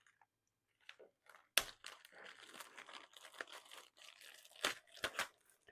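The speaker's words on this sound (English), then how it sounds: "So we're cutting 2 pieces of fabric using this" Close, crisp snipping and rustling as two pieces of fabric from a sewing kit are cut, in short irregular bursts with brief pauses and no talking.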